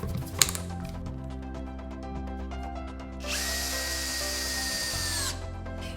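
A cordless drill driver with a screwdriver bit drives a screw, its motor whining in short, close bursts with a rising pitch during the run and a brief mechanical click near the start.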